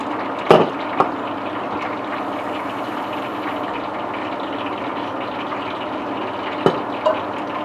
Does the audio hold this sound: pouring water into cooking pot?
yes